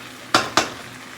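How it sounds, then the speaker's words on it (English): Red onion and sun-dried tomatoes sautéing in a pan for a creamy shrimp penne, heard as two sharp clinks of a utensil against the pan over a faint kitchen background. "sun-dried tomatoes, and a little bit of red onion, and we're just sauteing this a little bit"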